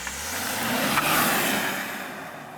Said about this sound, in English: let's see if I can improve on my best 0 to 60 mile an hour time.